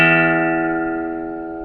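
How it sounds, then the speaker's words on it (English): A single sustained reference pitch for a guitar's sixth string, the low E, rings out alone from a pitch pipe or tuner, bright and steady with rich harmonics, slowly fading over its short length. "bring your 6th string up to this tone"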